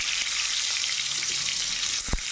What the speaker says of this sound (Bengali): তেল হয়ে গেছে, দেখো আলুটা ভেজে নেবো